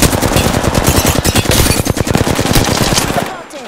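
Rapid automatic weapon fire in the Apex Legends battle royale game, a loud dense burst of closely spaced shots lasting over three seconds before stopping abruptly.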